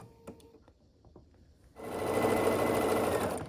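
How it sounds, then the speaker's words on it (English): After a few quiet handling clicks, a sewing machine starts stitching quilt block pieces together, its fast steady needle chatter running continuously at moderate loudness and close range. "And then we'll sew this together."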